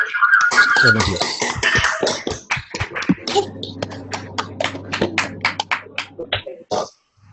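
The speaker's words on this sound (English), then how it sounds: "I'm going to literally unmute you all so that you can provide a round of applause in the usual manner for Dean" Participants unmuted on a video call during a courtroom ethics talk give a ragged round of applause: scattered, uneven claps and taps from many separate microphones, after a voice speaks at the start, trailing off near the end.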